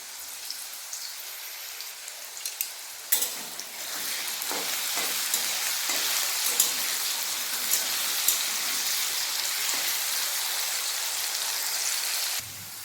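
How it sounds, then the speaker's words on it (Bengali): Potatoes frying in hot oil in a kitchen pan, a steady bright crackling sizzle that jumps in loudness as the pieces go in and then holds evenly, close and continuous. "তেল গরম হয়ে গেছে এতে আলুগুলো ভেজে নেব"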